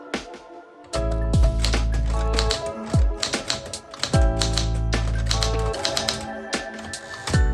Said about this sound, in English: I think I'm gonna start typing these